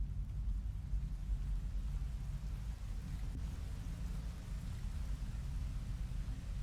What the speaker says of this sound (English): Oh, it's like acid rain.